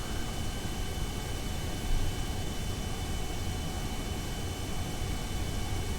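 Aircraft taking off in the game Kerbal Space Program, a steady broadband engine roar that holds level throughout with a slight swell near two seconds, loud and continuous with no voices.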